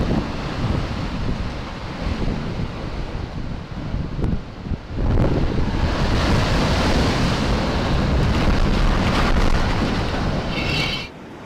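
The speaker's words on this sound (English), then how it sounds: "Strong waves in Portugal decide to give some garbage bins a good clean." Strong ocean waves crash onto a Portuguese shore, a loud, continuous roar of surf churning throughout, with a heavier surge partway through and wind buffeting the microphone.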